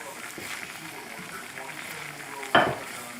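Smooth blended tomato sauce goes into a frying pan of sizzling chicken and chicken sausage: a steady close sizzle and stirring, then a sudden louder splash and hiss as the sauce lands.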